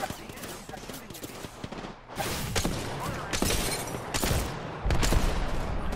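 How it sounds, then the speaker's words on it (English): Enemy gunfire in the Apex Legends video game, rapid overlapping automatic bursts and sharp shots, loud and close, coming in repeated volleys that build toward the end. "The enemy is shooting at me."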